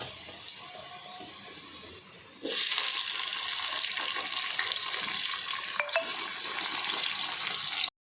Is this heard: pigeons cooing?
no